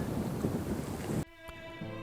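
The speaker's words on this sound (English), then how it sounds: "Well, it's thundering over there." Distant thunder rolling beside Pangong Lake in Tibet, heard from a riverside campsite: a loud, broad rumble for about a second that cuts off abruptly, leaving a quieter, steadier background.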